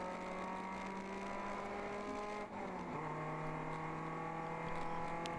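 An endurance race car accelerating out of turn 2 at Gingerman Raceway, heard from inside with a steady droning engine note that rises in pitch, dips briefly at a shift, then climbs again.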